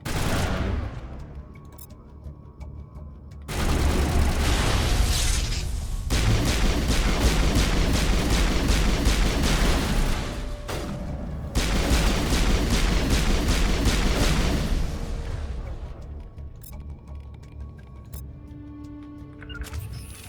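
Dense gunfire from turrets and enemies in the video game Mass Effect: long stretches of rapid automatic bursts broken by brief pauses, loud and continuous with no talking.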